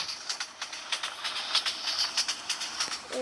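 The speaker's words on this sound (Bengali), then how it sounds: "দেখেন একটা ট্রেন যাচ্ছে," Another train rushes past on the opposite track, heard from inside a moving train. A dense, steady hiss and clatter of wheels and carriages fills the clip, loud and close, with no talking.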